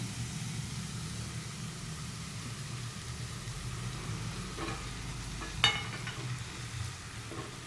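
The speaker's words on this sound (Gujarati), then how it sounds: "હવે આપણે એમાં ટામેટાની પ્યુરી એડ કરી દેવાની." Tomato puree for matar paneer sizzles in a hot pan as a steady, broad hiss throughout, with a few faint stirring clicks and one sharper knock near the end, no voices.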